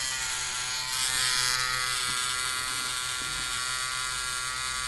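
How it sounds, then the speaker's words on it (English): A small electric motor spins a noodle fork, giving a steady, close buzzing whine with a slightly uneven, rattly edge that swells briefly near the start and then holds level throughout. "Motor's making a funny noise."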